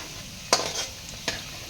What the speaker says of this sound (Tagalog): Lunod ang atuhang ahos sa atuhang gipakuksan nga